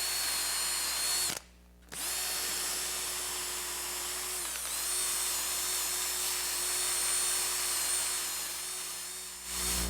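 A power drill spins a soft wire brush across a wood slab, giving a steady high whine that drops out briefly near the start and then resumes, with slight shifts in pitch under load.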